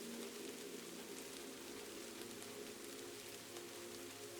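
A rainy Kyoto night brings an unbroken wash of rain drumming softly on a roof overhead, thousands of small drops blending into one level hiss, close and constant, with no one speaking.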